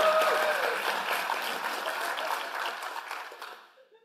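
Audience applause at a university conference closing session, fairly faint and soft, with a patter of claps that thins out and fades to silence over a few seconds.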